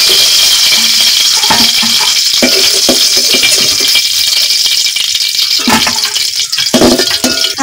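Pieces of fried shing fish, a stinging catfish, are lifted out of hot oil: a steady, close sizzle with scraping and light rattling of a utensil against the pan throughout.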